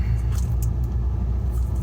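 Steady low engine rumble and road hum from inside a moving car, continuous and fairly loud, with faint rattling above it and no talking.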